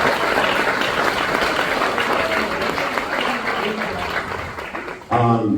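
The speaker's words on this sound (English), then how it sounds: "If you want to stand up for a round of applause" Audience at a film festival world premiere applauds continuously, a dense sustained wash of clapping that holds steady before fading near the end as a voice begins.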